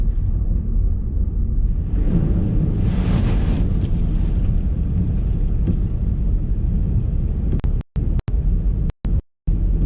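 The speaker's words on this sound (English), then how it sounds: "Windy here, you can hear it possibly." Strong wind from Storm Babet buffets the microphone during flooding in Scotland, a loud, roaring gusty rush that swells midway and drops out briefly near the end.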